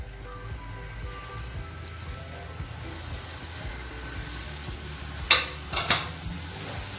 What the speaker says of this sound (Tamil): இதே மாதிரி எல்லா கொழுக்கட்டையும் நெய்யில் பொறிச்சு எடுத்துக்கோங்க.